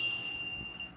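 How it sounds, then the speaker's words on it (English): A small electronic buzzer driven by a 555 IC in bistable mode gives a steady, thin, high-pitched tone, faint and continuous, over low background hiss. "I use buzzer 555 IC in bistable mode LED."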